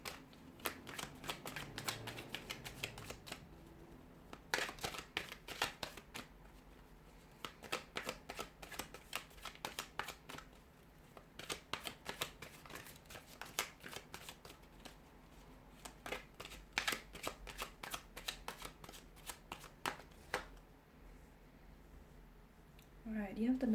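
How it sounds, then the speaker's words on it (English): A deck of tarot cards is shuffled again and again during a reading, crisp riffling bursts and soft slides repeating close to the mic for over twenty seconds with brief pauses between. "we'll go ahead and give the cards a shuffle"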